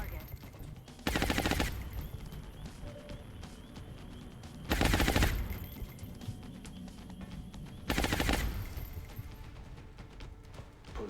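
Suppressing fire in the Long War strategy game, three loud sustained automatic gunfire bursts spaced a few seconds apart over a background of game ambience.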